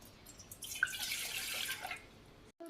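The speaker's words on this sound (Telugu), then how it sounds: "ఫస్ట్ మనం ఒక బౌల్లో వాటర్ వేయాలి" Water runs and splashes steadily into a bowl for about two seconds, fairly quiet, then stops abruptly.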